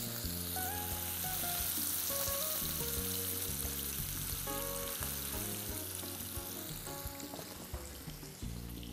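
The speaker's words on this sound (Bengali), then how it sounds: "আমাদের তেলটা গরম হয়ে গেছে, খুব সাবধানে আমি কিন্তু তেলে ছেড়ে দিব" Leaf-shaped pieces of chicken fry in hot oil, with a continuous, even sizzle and crackle close by from start to finish and no talking.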